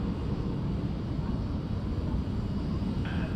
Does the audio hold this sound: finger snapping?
no